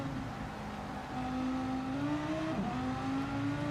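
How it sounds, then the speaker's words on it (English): A race car in Gran Turismo, struggling for traction in a hairpin, gives a moderately loud engine whine that wavers and dips as the throttle is worked, with steady road and tyre rumble beneath. "You can hear the car just fighting for traction."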